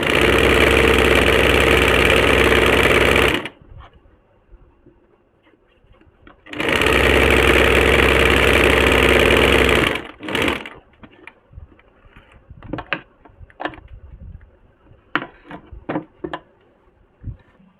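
Sewing machine stitching the side seam of a Nyra cut kurti, two loud sustained runs of steady motor hum and needle clatter, followed by quieter clicks and fabric handling.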